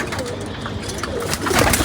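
Pigeons coo in a noisy yard as a pair is let go, their calls running under a constant rustling, flapping din, near and fairly loud.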